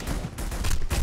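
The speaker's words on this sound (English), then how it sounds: "A lot of bullets flying." Rapid bursts of gunfire in The Punisher on PS2, a loud, dense crackle of overlapping shots with no pauses, sounding like a close firefight.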